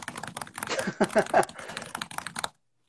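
Fingers clatter quickly across a computer keyboard, a dense run of close key clicks that stops abruptly.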